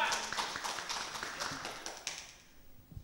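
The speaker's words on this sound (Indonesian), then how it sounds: "Berikan tepuk tangan yang meriah untuk Pak Jinjang Bilawini SI." Applause from the audience at a Tasikmalaya mayoral candidates' debate event, a dense patter of many hands clapping that fades toward the end, with murmured voices underneath.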